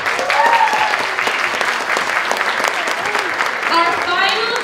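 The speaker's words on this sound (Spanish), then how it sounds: "Vamos a darle una bienvenida y un aplauso fuerte al señor Raúl Hernández." An audience at the Miss Cuba US 2019 pageant gala breaks into sustained, loud applause that keeps going steadily for several seconds, with a few voices faintly audible within it.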